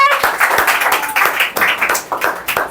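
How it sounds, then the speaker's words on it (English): An audience claps for a speaker being introduced at an English-speaking session, a bright, uneven patter of hands lasting a few seconds with no voices over it. "Viewers, please clap."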